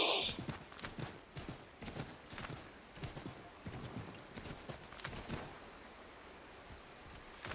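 Horse hooves clip-clop at a steady gallop in the video game Assassin's Creed 3, with rhythmic, fairly close thuds over a rustling outdoor ambience.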